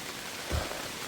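Rain falls on a wooded trail in the 100 Mile Wilderness, making a steady, even hiss of drops on leaves and ground, with one soft thud midway.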